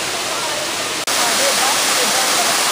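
Becky Branch Falls on the Bartram Trail near Warwoman Dell, running high with lots of water after weekend rain: a steady, loud broadband roar of falling water throughout, broken by a single brief dropout.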